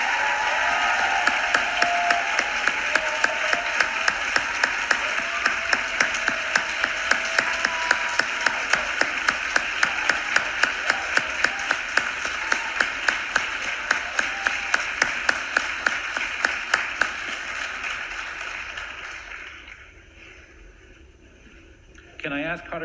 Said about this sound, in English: you all deserve equally a round of applause for your beautiful work